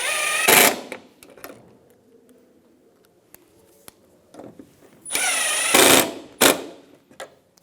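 A power drill drives Phillips head screws into a new side bumper bracket on a 2013-2017 Honda Accord, with two loud bursts separated by quiet handling noises.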